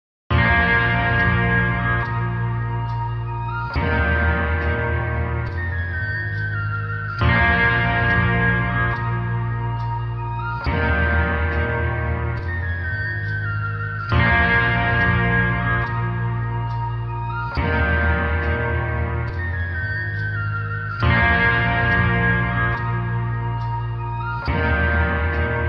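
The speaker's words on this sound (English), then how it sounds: "here's what the loop sounds like" A looped trap beat phrase repeats about every three and a half seconds, each pass starting with a strong hit and trailing off in washy reverb.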